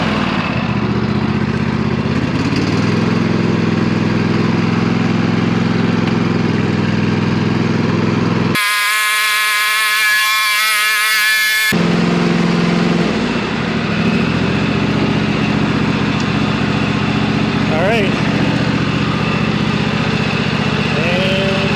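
A 2022 Craftsman T2400 lawn tractor engine idles steadily and loudly up close, broken midway by a few seconds of a different tonal sound before the engine drone resumes.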